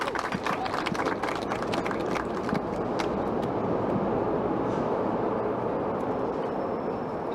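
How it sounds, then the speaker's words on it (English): A Chicago elevated L train roars past an outdoor rally in a loud, steady rumble that dominates throughout, with scattered crowd clapping early on. "you got to wait for the L train to pass before you can start talking"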